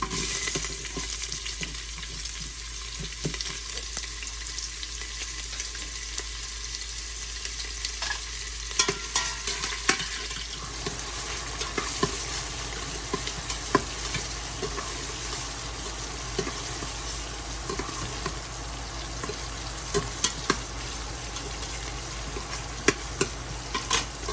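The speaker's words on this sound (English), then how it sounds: "I'm gonna go in with my onion and start caramelize my onion" Onions fry in a pot for lamb biryani, a loud steady sizzle with frequent scraping stirs and utensil knocks, close and continuous throughout.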